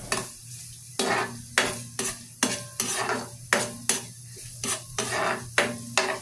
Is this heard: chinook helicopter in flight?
no